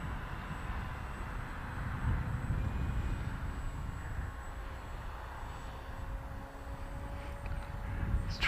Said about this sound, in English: A lot of wind again.